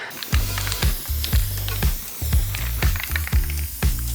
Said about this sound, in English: I got some spray foam, well, some spray glue.